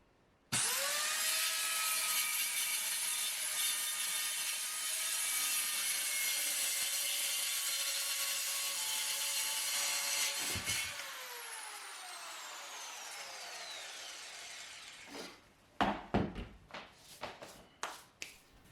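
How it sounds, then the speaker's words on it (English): A circular saw cuts into a wooden board without the blade set deep enough, a loud steady whine lasting about ten seconds before spinning down, followed by a few sharp knocks and clatters of wood. "I realized that I forgot to set the depth of the blade and didn't actually cut all the way through the board."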